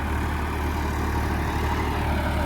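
A tractor engine runs steadily at idle, a constant low rumble with mechanical vibration and no voices.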